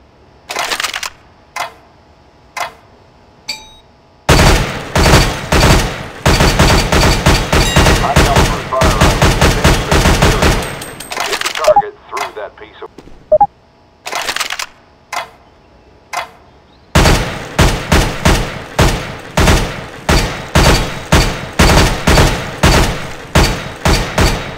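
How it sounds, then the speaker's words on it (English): Short controlled bursts of gunfire on a CS:GO weapons course, loud sharp rapid volleys with brief pauses, scattered single shots and clicks between, no talk. "Fire in short, controlled bursts"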